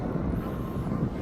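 Wizz Air airliner at Birmingham Airport, a continuous broad roar of jet engines heard at a distance with wind buffeting the microphone, steady and unbroken.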